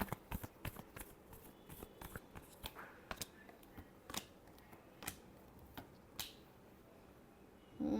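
Tarot cards being shuffled by hand in a final shuffle, a quick run of soft, close riffling snaps and flicks at a low level, with no one speaking.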